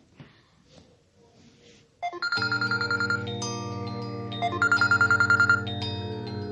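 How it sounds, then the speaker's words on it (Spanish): A telephone rings with a repeating electronic warble, loud and close, in two bursts of rapid pulsed trills after a brief quiet opening. "Sigue timbrando el teléfono."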